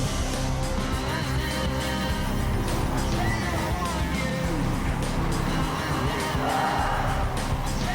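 A 2005 TVR Tuscan sports car with 350 brake horsepower pulling away on a race track, a loud dense engine roar filling the clip steadily with wind and ambient noise.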